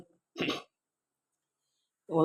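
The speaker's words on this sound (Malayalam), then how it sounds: "ശ്വാസം എടുക്കുമ്പം ചുമ വരുന്നുണ്ട്" A single short, throaty cough or throat-clear sounds close by, followed by silence and the start of another burst at the end.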